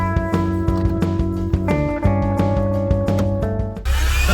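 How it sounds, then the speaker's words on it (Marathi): A loud portable vacuum cleaner motor whines steadily with harmonic tones while cleaning a Mazda car, pitch shifting slightly, then a burst of rushing air noise near the end. "मशीन गन आपली आपण चालू केलेली आहे पोर्टेबल व्हॅक्युम क्लीनर"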